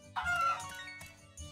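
Chickens cluck in bursts in the farming video game Story of Seasons: Pioneers of Olive Town, with soft game ambience underneath.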